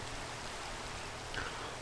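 Rain falls in the video game Minecraft as a soft, steady hiss, a constant faint wash of droplets with no breaks and no talking.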